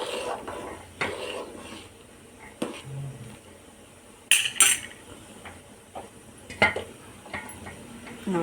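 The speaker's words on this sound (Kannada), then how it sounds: "ಇದನ್ನು ಒಂದು ಸ್ವಲ್ಪ ಚೆನ್ನಾಗಿ ಮಿಕ್ಸ್ ಮಾಡಿ." A metal spoon scrapes and clinks against a pot while sambar made with MTR sambar powder is stirred, with irregular soft taps and a few sharper clanks over a quiet kitchen background.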